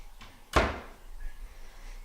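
A kitchen cabinet door in a minimalist kitchen shuts with one sharp, close knock, then a brief rattle fades into quiet room noise.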